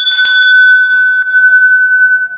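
A metal bell at a Hanuman temple struck once, ringing loud and close with a clear, sustained tone that slowly decays over a couple of seconds.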